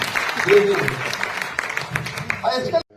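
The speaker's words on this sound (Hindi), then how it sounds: "तो एक बार तालियां बजा दीजिए" An audience applauds at a Jain sadhvi's spiritual discourse: a dense, steady patter of clapping hands for about three seconds, with a voice mixed in, then an abrupt stop.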